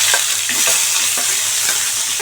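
Chopped onions frying and sizzling in hot oil with popped mustard seeds in a pan, a steady loud crackling hiss with faint stirring scrapes, close and continuous, no talking.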